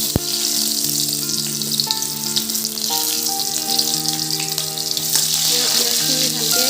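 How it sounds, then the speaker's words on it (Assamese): Onions dropped into hot refined and mustard oil in a wok sizzle loudly and steadily for several seconds, with a faint musical tone running underneath and no talk. "এইফালে তেল গৰম হৈ গ'ল এতিয়া মই পিঁয়াজখিনি দি দিম ইয়াত"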